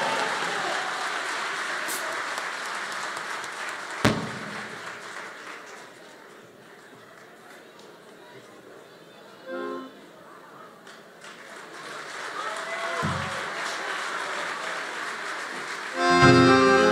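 An audience applauds at a live music tribute concert, with a dense wash of clapping that thins out midway and then swells again, along with a few sharp instrumental notes.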